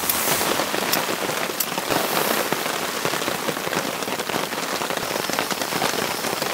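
Heavy rain pours steadily during a winter storm while camping outdoors, a dense continuous hiss of drops drumming on surfaces close by, with no voices, in horrendous conditions.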